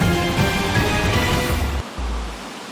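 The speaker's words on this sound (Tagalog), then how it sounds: "Walang humpay ang malakas na buhos ng ulan sa malaking bahagi ng Luzon." Heavy rain pours down without letup over Luzon, a dense, loud, steady broadband hiss that drops off briefly near the end.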